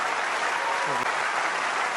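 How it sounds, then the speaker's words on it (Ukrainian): Spectators in the stands at a tennis match applaud steadily, a dense, loud, continuous wash of clapping that fills the whole moment without a break. "Приємно, що оплески на трибунах є."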